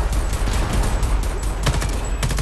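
Rapid gunfire from enemy snipers in Homefront: The Revolution, a steady crackling barrage with a few sharper, louder cracks standing out near the end, dense and fairly close.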